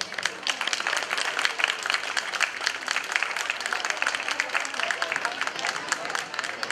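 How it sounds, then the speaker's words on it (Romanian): Crowd applause welcoming a children's group and an Aromanian dance ensemble at an interethnic festival stage, brisk and dense clapping from many hands, loud and continuous with crisp individual claps standing out. "Îi putem întâmpina cu aplauze."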